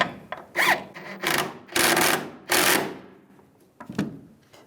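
Bolt being tightened on a bracket for a tailgate damper on a 2007-2013 Chevy Silverado: several short bursts of ratcheting and scraping metal work, close and fairly loud, separated by brief pauses.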